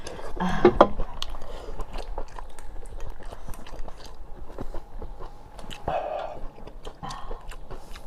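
Someone chews big pieces of spicy braised beef tripe close to the mic, with soft wet bites and occasional crunchy accents repeating steadily throughout.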